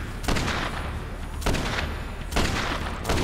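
Three loud, sharp revolver shots ring out about a second apart, each with a broad crack and a short decaying tail, in the Dead Rising 3 video game with no voices over them.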